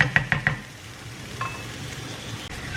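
Vegetables cooking in a pan for a Schezwan veg cheese dosa, a soft steady sizzle with a few quick clinks of a utensil at the start and another light knock later, quiet and close.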